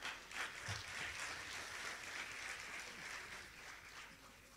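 Steady, fairly quiet applause from an audience at the 2017 Capital Market University Challenge awards ceremony, an even wash of clapping with no voices rising above it.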